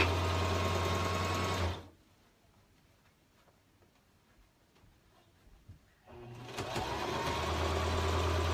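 Sewing machine stitching the elastic casing closed on a child's dress: a fast, loud, even whirring run, a pause of near quiet, then the machine starts again and runs steadily.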